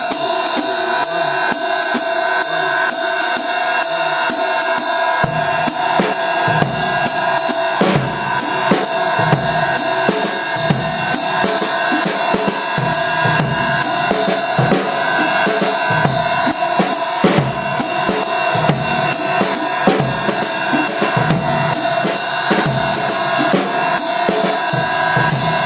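A jazz waltz in 3/4 time plays as a full ensemble with a steady lilting three-beat pulse, busy cymbal and percussion hits over continuous harmonic instruments, loud and uninterrupted throughout.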